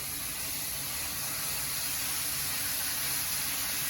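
Ingredients, including meat, hit a hot pan and set off a steady, close, hissing sizzle that holds evenly without a break and has no talk over it.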